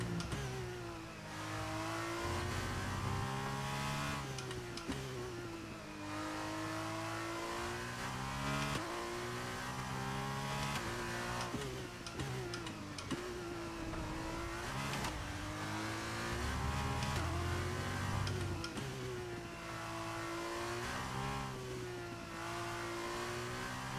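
Formula 2 race car in the F1 23 video game on a wet-weather practice lap, engine revving loudly and continuously through gear shifts with rising and falling pitch, alone without talk.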